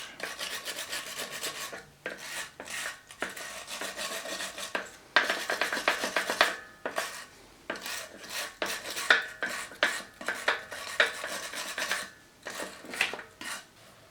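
A wire welding brush scrubs metal and wood chips off the gearbox of a Delta 14-inch bandsaw, giving close, loud rasping strokes in steady bursts with brief pauses between them.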